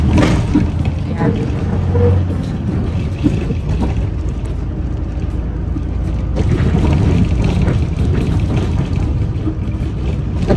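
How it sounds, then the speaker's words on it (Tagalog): Steady low engine rumble and road noise fill an enclosed bus interior, with occasional bumps and rattles; a voice speaks intermittently over it, in South Korea. "andito kami ngayon sa bus"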